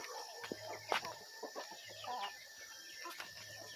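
Hens cluck in a backyard coop at the end of the afternoon while one is laying, giving quiet, scattered clucks and short calls at moderate distance over a faint background.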